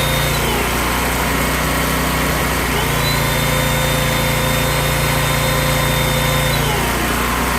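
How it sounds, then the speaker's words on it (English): A salvaged generator found in the trash runs under electrical load with a loud, steady close-up engine drone and a whining tone whose pitch shifts as the load changes, then settles again near the end. "But she's running pretty strong. Engine sounds good."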